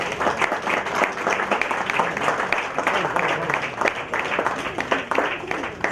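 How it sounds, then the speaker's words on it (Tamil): Steady audience applause fills a hall at a Tamil film tribute event, dense and continuous throughout, with a speaker's voice faintly underneath. "திரு சித்ராலயா கோபு அவர்களை உங்கள் கரகோஷத்துடன்"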